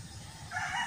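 A rooster crows once, partway through its call, a faint distant rising cry over low background rumble.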